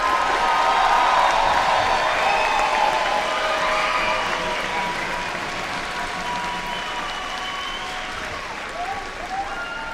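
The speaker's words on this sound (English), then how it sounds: "let's give our graduates one last round of applause" Sustained audience applause at a Southeastern summer master's degree commencement ceremony, a dense wash of clapping from a large crowd that stays steady and then eases slightly in level toward the end.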